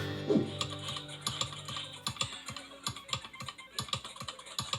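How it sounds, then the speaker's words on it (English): Loud clicking of game controller buttons, a rapid irregular run of sharp plastic clicks close by, with a brief faint vocal sound near the start. "It's a very loud controller. You need to get that fixed."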